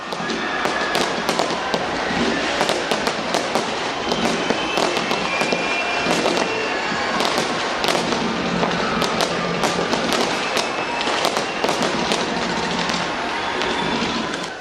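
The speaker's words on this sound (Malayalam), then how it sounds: "ന്യൂസിലാൻഡിലെ അക്ലാൻഡ് നഗരം വർണ്ണാഭമായ വെടിക്കെട്ടുകളോടുകൂടിയാണ് പുതുവർഷത്തെ സ്വാഗതം ചെയ്തത്." New Year fireworks burst over Auckland, New Zealand, a dense, continuous barrage of crackling bangs and pops rolling loud for the whole stretch, no talk audible.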